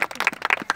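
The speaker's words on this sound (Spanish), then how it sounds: "La mejor defensa, un aplauso." Short burst of applause rewarding the best defender at a kids' football award moment, several pairs of hands clapping unevenly and close by, lasting under a second.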